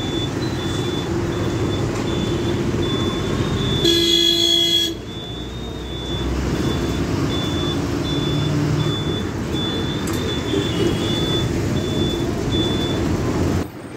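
Heavy road traffic in Hyderabad, heard from inside a TGSRTC city bus, with a steady engine and road rumble throughout, a loud burst of horn honking near the middle, and a repeating high beep.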